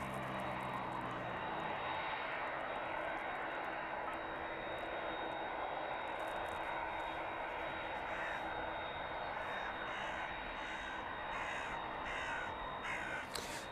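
A 38-year-old airliner on approach to East Midlands airport makes a steady, broad engine roar with a thin whine that holds throughout, while crows caw nearby.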